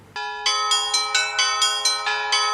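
Bells ring out in a steady series of about nine bright, resonant strikes, each chiming briefly before the next, loud and near.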